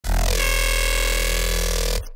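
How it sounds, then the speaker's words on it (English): Synth foghorn in a melodic drum and bass track playing E shifted up seven semitones, one loud sustained, buzzy low tone holding for about two seconds before cutting off; no talking. "for the foghorn, it's playing E, and then it's set to +7 semitone"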